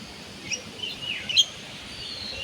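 Pet birds chirp in faint, brief tweets scattered over a steady background hiss, with a couple of slightly louder peeps near the middle and no talking.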